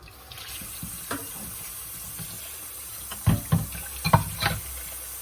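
Tap water runs steadily into a sink to soak a pan coated with chocolate and sugar, a quiet hiss with a few louder splashing and clattering moments near the end.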